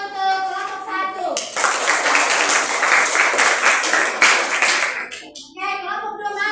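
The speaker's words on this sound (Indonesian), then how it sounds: "Tepuk tangan untuk kelompok 1." Sustained classroom applause for a student group after their presentation, a dense, steady round of clapping from many hands lasting several seconds, with a voice speaking just before and after.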